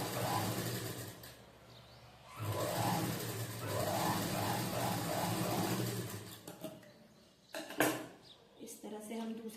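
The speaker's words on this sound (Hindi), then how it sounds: "इसको हम डबल सिलाई कर लेते हैं" A sewing machine runs double stitching on a katori blouse in bursts of steady mechanical whirring, close and fairly loud, broken by pauses and a few clunks, with someone talking between runs.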